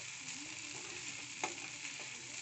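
Spiced potato and okra being mixed in a pan for a dry curry, giving a steady frying sizzle with a few soft scraping strokes of the spoon.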